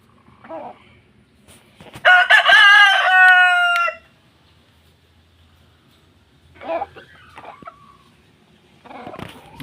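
A native rooster crows loudly once in a long drawn-out call, with softer clucks and chicken calls from the flock before and after it.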